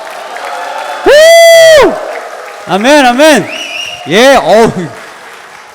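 A congregation at a Korean church worship service erupts in loud cheering, whoops and applause in several surging waves, with voices speaking between the bursts.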